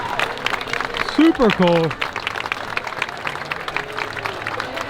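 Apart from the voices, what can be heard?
crowd cheering at Mickey and Minnie's Runaway Railway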